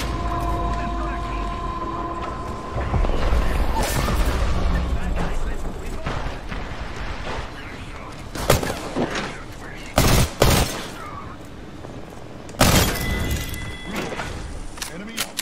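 Gunfire in a shooter video game: dense bursts and loud separate blasts, with several strong shots standing out near the end, mixed with spoken game chatter.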